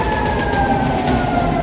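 Air raid sirens wail in Tel Aviv during a drone attack, a sustained slowly falling tone ringing out loud and steady over a dense rumbling background.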